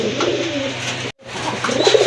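A pair of white pigeons coo softly nearby, low throaty calls repeating over a faint background murmur, broken by a brief cut in the middle.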